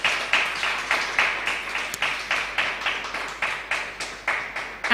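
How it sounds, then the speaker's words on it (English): Audience applause at a debating competition, steady clapping from a crowd with a regular pulsing rhythm, moderately loud and continuous throughout. "please give her a round of applause"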